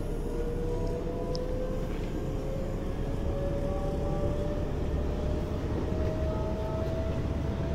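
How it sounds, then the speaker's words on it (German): An electric S-Bahn commuter train accelerates hard in the Train Sim World 2 simulator, a steady rumbling roll with a rising electric motor whine climbing in pitch throughout, loud and continuous without talk. "dieser Zug hat eine echt krasse Beschleunigung"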